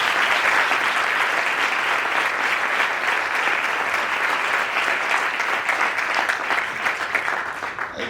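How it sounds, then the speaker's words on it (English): A large audience at a medical school white coat ceremony applauds steadily, sustained dense clapping throughout that tapers slightly at the end. "A round of applause."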